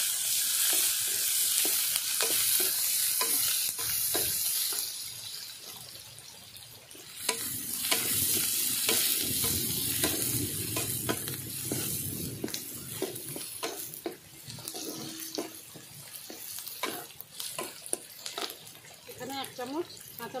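Chopped onion and ginger-garlic paste sizzle and crackle in hot white oil while being stirred, a steady hiss broken by clinks and scrapes of a spoon against the pan.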